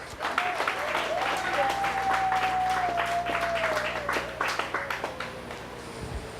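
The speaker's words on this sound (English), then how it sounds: "Let's give Derek another big round of applause." Wedding guests applaud together in a steady wash of clapping during a toast, with a faint tone sliding beneath and the applause tapering off toward the end.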